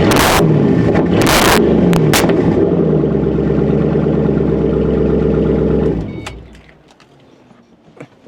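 A Ford Mustang V8 with a manual gearbox revs loudly up close with sharp bursts, settles into a deep idle, then cuts off, leaving near silence.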